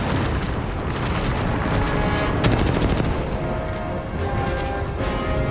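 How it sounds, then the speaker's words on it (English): Gunfire from Loba in the Apex Legends video game: a dense, loud burst of repeated shots and booms that continues steadily for several seconds, with no talking over it. "Loba cannot contain herself and fires prematurely at the now fully alerted squad"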